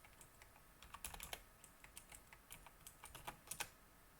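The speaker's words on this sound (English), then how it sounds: "let's type headache" A computer keyboard is typed on to enter a web search, giving a faint, quick run of light clicking keystrokes in uneven bursts, close by and alone.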